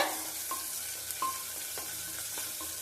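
Crushed ginger-garlic paste sautés in a hot pan with a steady sizzle, broken every half second or so by short scraping stirs of a spoon, close and moderately loud.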